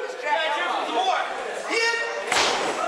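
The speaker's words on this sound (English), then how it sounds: "sidewalk slams him right on the edge of the apron." At an RWA Hype wrestling show, a wrestler is sidewalk-slammed onto the edge of the ring apron, a hard thud late in the clip that rises above loud commentary and crowd noise.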